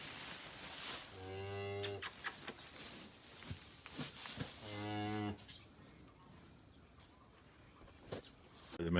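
A cow on a farm with calves moos twice, two long harmonic calls close by and fairly loud, separated by a short pause, with quiet rustling between and afterward.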